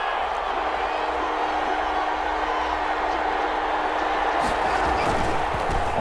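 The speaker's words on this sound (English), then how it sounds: "the crowd getting into it as we come up on a big" Crowd noise in the Madden NFL 21 football game swells as a big third-down play approaches, a steady roaring stadium crowd with rising cheers, continuous and loud throughout.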